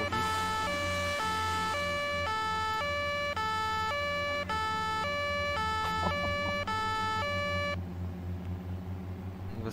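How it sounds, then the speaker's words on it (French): An ambulance siren in the video game Arma blares a steady, repeating two-tone wail, loud and continuous, shifting slightly in tone near the end with engine rumble beneath; no speech. "Une ambulance devant."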